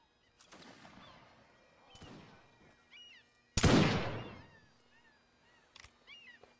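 Gunfire aimed at a ship in Mount & Blade: Napoleonic Wars, a few sharp musket-like reports spaced apart, one loud close blast in the middle, with faint chatter and battle noise around them.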